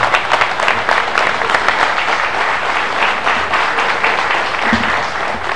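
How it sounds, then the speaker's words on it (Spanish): Steady applause from a large crowd at an outdoor anniversary celebration on an avenue in La Paz, dense clapping sustained throughout with no voices standing out. "Otro aplauso"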